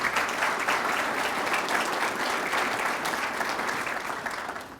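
Sustained, dense applause from an audience at a county business address, loud and steady from start to finish with no break.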